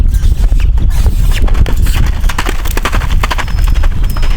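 Horse hooves cantering in a three-beat clip-clop rhythm, loud and close, with steady dull thuds repeating throughout and no talk.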